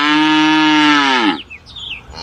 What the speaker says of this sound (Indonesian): Yang ini seekor sapi teman-teman.